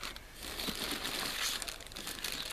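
Cardboard boxes and plastic packaging of RESINPRO resin products being opened, soft crinkling and rustling close by at low volume, continuous for a couple of seconds.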